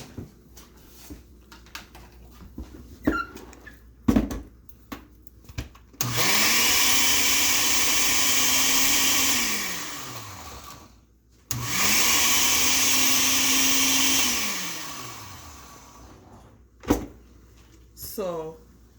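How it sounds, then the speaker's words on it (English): A kitchen blender blending onions whirs loudly in two bursts of several seconds each, winding up and down, with talk and clatter before and after. "I'm going to blend it together in the blender."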